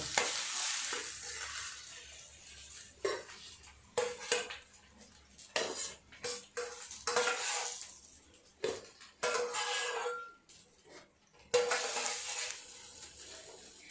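Bhetki fish frying slowly in a pan over low gas, sizzling in bursts that mix with scraping, stirring and clinking of a utensil against the pan.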